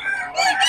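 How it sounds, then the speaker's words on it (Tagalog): Chickens at a market in Bocaue crowing and clucking, a brief, loud, close burst of fowl calls. "Daming manok"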